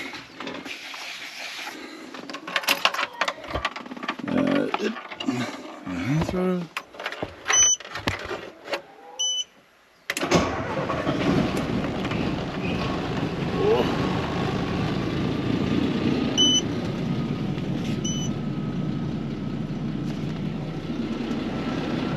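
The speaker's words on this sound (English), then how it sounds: "Does have a tremendous air leak in it, so I'm gonna let it idle away for a little bit." A farm truck loaded with fertiliser starts and then idles with a tremendous air leak. There are scattered knocks and clatter first, then a steady, loud engine drone with a constant hiss that carries on alone.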